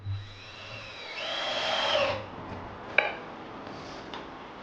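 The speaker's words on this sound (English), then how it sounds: "I just used a couple of pocket screws to hold down the monitor stand" A drill drives pocket screws into a wooden monitor stand on a home studio desk, whirring up in one rising burst for about a second, followed by a sharp knock and a few faint clicks.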